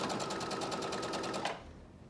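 A sewing machine stitches knit fabric for a headband in a fast, even run of needle clicks for about a second and a half, then stops, leaving quiet room tone.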